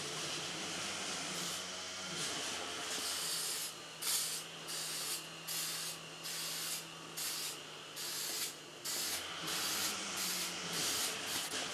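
Aerosol spray can laying a coat of Bulldog adhesion promoter onto dirt bike plastics for a Hawk 250, a steady hiss broken into a series of short repeated bursts, close and alone.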